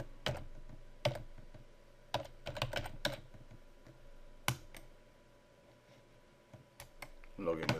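Someone types on a computer keyboard in quick, irregular bursts of sharp clicks with short pauses between them, fairly close and quiet.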